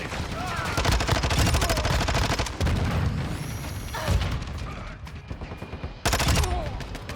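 Sustained automatic gunfire in Call of Duty MW2, aimed at shooting down a helicopter: loud, continuous rattling bursts close by, broken by brief pauses, with a final heavy volley near the end.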